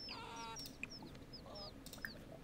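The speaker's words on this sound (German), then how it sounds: "Weibliches Küken. Federvieh." A female chick in The Sims 4 farm life makes soft, repeated chirps and clucks, a few short peeps and squawks at low volume with brief clicks between.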